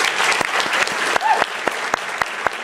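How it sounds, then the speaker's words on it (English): Applause at a company's Super Saturday gathering in San Diego: a steady, fairly loud roar of many hands clapping, with sharper individual claps popping out of the crowd noise. "Can we please give them a round of applause?"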